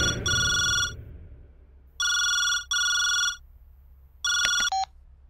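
Telephone ringing with an electronic trilling ringtone, three bursts separated by short pauses, then a final clipped ring, clear and prominent against a quiet background.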